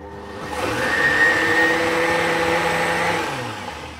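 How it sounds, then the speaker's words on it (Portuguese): A blender whirs steadily while blending corn with milk, holding one loud motor drone for several seconds with no voices. "Vamos bater o milho com o leite."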